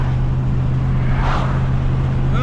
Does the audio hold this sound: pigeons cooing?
no